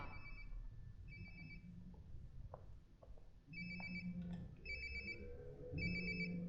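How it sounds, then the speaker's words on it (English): A mobile phone rings in the game Life Is Strange: Before the Storm, sounding repeated electronic ring bursts over a low ambient rumble, with brief clicks between the rings. "Sounds like my phone is definitely nearby."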